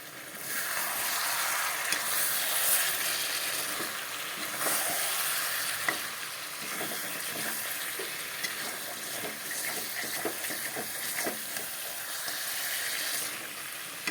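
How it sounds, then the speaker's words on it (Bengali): Chicken sautéed kosha-style in a pan, giving a dense, even sizzle with light intermittent scrapes of a stirring spoon, close and continuous, with no talking. "চিকেনটা কষানো হয়ে গেল"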